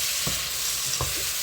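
Chopped carrots are stirred into courgette and chicken frying in a pan, a steady loud sizzle with two soft thuds of the spoon turning the mixture.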